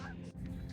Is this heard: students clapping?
no